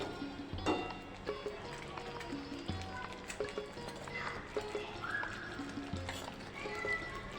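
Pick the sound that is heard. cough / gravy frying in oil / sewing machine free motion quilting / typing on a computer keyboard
gravy frying in oil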